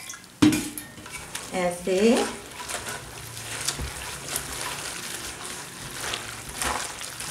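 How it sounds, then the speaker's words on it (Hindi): Pakora batter being mixed by hand with added water in a metal bowl: wet stirring and squelching with a few sharp clanks of the vessel near the start, then a steady softer churning. A brief word is spoken. "इसको हम हैंड से मिक्स करेंगे। हम पानी उतना डालना है कि वो अच्छे से मिक्स हो जाए"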